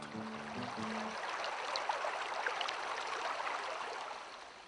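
Water flowing in Last Chance Creek, a Klondike gold-field stream, as a soft continuous rushing wash that holds steady, fairly faint and heard alone, with a few low tonal notes near the start.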